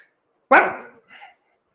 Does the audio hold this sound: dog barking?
yes